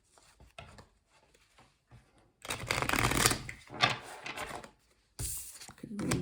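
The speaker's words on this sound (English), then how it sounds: "Then we're going to pull some cards from the Light Seers Tarot as well." A deck of Light Seers Tarot cards is shuffled close by in bursts of riffling and rubbing. Quieter handling and tapping come between the bursts.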